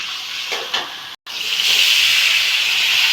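Onion and a garlic paste sizzle and hiss in a small amount of hot oil, a loud steady frying sound with a brief gap before the sizzle swells and holds.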